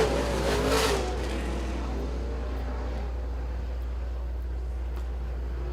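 Dirt track race cars roar past at the finish, a loud engine sweep up close at the start that settles into a steady, more distant drone.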